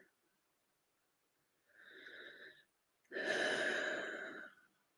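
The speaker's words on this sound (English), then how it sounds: "Breathing." Two audible breaths during a guided meditation session: a softer inhale followed after a short pause by a longer, louder, airy exhale, close and alone with no talking.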